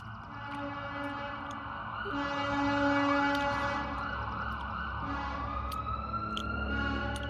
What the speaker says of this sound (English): We have some sirens going by.